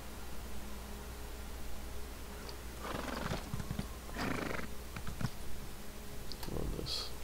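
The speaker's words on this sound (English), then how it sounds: "Let's just get off this fucking horse." Elder Scrolls Online gameplay with a ridden horse: scattered hoof clops and clicks sound over a faint game hum, and a brief high whinny rises near the end.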